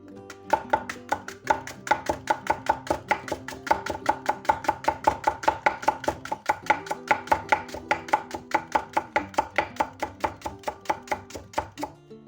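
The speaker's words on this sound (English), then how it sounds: "tip of the blade on the board and basically just cut like that." Knife chopping food on a cutting board with the blade tip kept down, a fast steady run of sharp, even taps close up for the whole stretch, with no talking.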